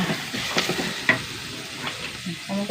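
Onion and curry leaves frying in hot oil, a steady close sizzle with occasional stirring scrapes and clicks throughout.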